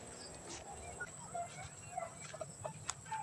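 Gamecock chickens at a farm give soft, scattered clucks and short calls across a steady background murmur, several brief notes at irregular intervals.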